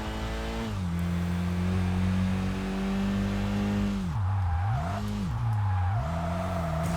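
A car engine in the racing game Kaido Racer 2 drones steadily at high revs, then drops and climbs again through several quick shifts and throttle changes near the end, loud and continuous with no talk.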